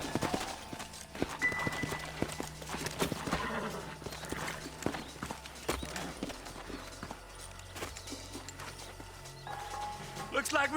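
Horse hooves clopping over ground in the Western video game Red Dead Redemption, a steady rhythm of hoofbeats mixed with ambient game sounds, music and a horse's whinny, with voices talking over them.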